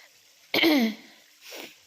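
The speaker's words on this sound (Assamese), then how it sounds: "মোৰ একদম পূৰা কাহ হৈছে" A single harsh cough bursts out close by, followed a moment later by a softer throat-clearing rasp.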